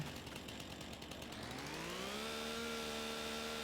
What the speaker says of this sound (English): Whip out our rusty dusty chainsaw.